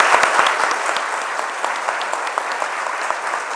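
Sustained audience applause at an exhibition opening at IMS Paulista, a dense, even wash of clapping from a sizable crowd, continuous and unaccompanied by speech.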